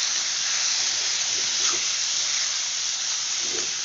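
A covered pan of banana flower dal cooking on low heat, giving off a constant soft hiss of escaping steam with a few faint bubbling touches. Close by and steady, with no talking.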